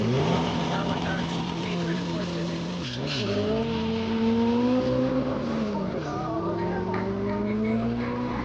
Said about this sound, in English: So turbocharged GT started.